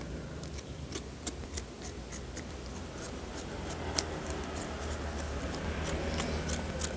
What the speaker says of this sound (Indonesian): Sudah kita gunting seperti ini saja.